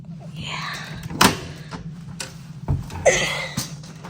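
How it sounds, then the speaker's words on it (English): Heavy doors in a London hotel room swing and shut with a few dull thunks and clicks, close up, while a voice talks quietly over them. "All these heavy doors"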